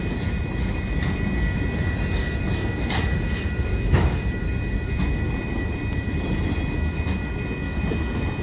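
A northbound Quebec Gatineau freight train rolls through the Des Prairies Boulevard level crossing in Laval, Quebec, with its final cars going by. A steady, close rolling rumble of wheels on rails runs throughout, and a constant high tone sits above it.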